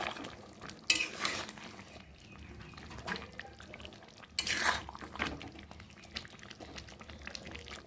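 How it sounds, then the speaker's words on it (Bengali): Meat masala and sugar stirred into chicken in a pot for biryani, with a few distinct clanks of a spoon against metal and soft liquid movement between them. "দিয়ে দেবো মিট মশলা, দিয়ে একটু ভালো করে নেড়ে চেড়ে নেব।"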